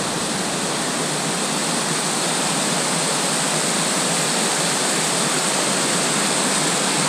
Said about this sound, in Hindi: ये चीज़ यहाँ से झरने उतर के यहाँ से ये जो जा रहा है